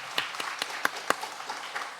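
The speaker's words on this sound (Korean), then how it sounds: "박수 한번 하겠습니다." A handful of faint, separate claps sound in a Korean Sunday church service as the congregation congratulates newlyweds, brief and scattered rather than a full ovation.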